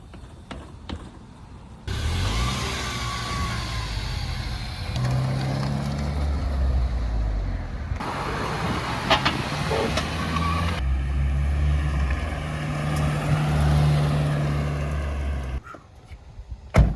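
Damaged Nissan Nismo driven on a test drive, its engine drone and road rumble filling the cabin steadily for most of the stretch, with shifts in pitch as it changes speed and quieter moments at the start and end.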